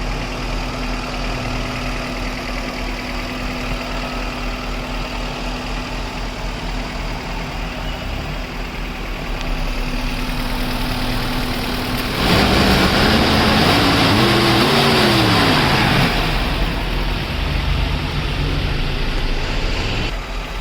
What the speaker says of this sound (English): You can see the quality and the engine noise of the vehicle.